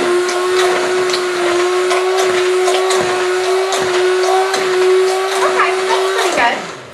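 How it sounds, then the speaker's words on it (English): An electric mixer beats banana bread batter made with buttermilk, giving a loud, steady motor whine with a rhythmic thump as the beaters hit the bowl, then winds down at the end. "Can you go ahead and beat that"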